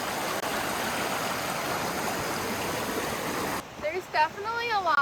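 Steady, loud rushing of a stream along the Eaton Canyon waterfall trail fills most of the stretch, then drops back as voices talk over the water near the end.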